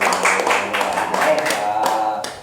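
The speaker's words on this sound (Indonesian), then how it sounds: "Tepuk tangan dulu" A small group claps in an uneven, close patter with individual claps standing out, alongside voices talking during a village poverty-alleviation podcast.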